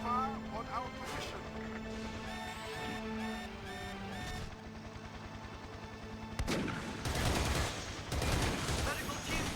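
Gunfire crackles in a Battlefield 2: Modern Combat battle, loud bursts erupting in the later half after a quieter stretch with tonal music or radio chatter and talk underneath.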